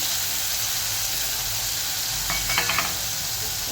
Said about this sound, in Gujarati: ઘી ગરમ થાય ત્યારે આપણે અંદર પનીર ઉમેરીશું અને પનીરનું થોડુંક સોતરીશું.